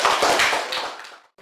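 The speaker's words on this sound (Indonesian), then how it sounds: "tepuk tangan untuk kelompok 4 ya" A classroom of students bursts into applause for a presenting group, a dense close wash of many hands clapping that fades out after about a second.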